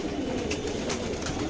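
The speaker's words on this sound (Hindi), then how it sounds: "ये जो सुरखा गुटक रहा है" A male surkha pigeon coos in a steady, continuous low murmur, close and moderately loud, with no talk over it.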